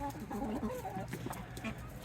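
Chickens clucking and murmuring close by, short irregular calls over a low background hum, with a faint voice mixed in.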